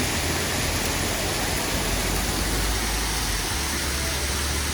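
A sudden hailstorm in Tokyo, Japan, makes a loud, dense, unbroken roar of hailstones pelting surfaces. It stays constant and close throughout, with no talking.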